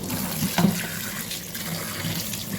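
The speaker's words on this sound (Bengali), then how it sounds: "এখন আমি এটাকে আরও একটু জলে ধুয়ে নেব" Fish pieces are rinsed under a running tap in a sink, a steady close splash and gush of water with small bumps of handling, no voices.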